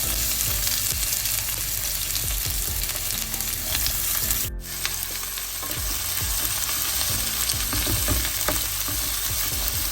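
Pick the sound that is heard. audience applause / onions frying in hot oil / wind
onions frying in hot oil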